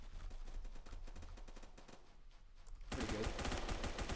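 Rapid automatic gunfire rattles in the Roblox shooter Phantom Forces, a soft steady stream of shots that swells into a louder, denser burst near the end, with a brief spoken comment.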